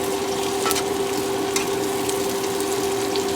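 Peppers and onions fry in a pan while being stirred for flank steak, giving a steady close sizzle with brief scraping bursts over a low constant hum.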